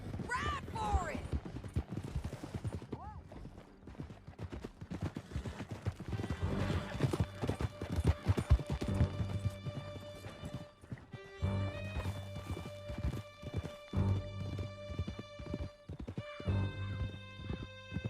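Horses gallop across a canyon in Red Dead Redemption 2, a steady stream of clattering hooves with occasional neighs and snorts, mixed with game music and some scattered speech.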